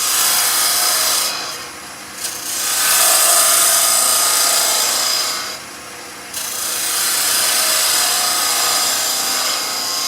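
A bowl gouge roughs down a spinning piece of wood on a lathe, giving a loud, steady rasping scrape that eases off twice in brief quieter dips before biting in again.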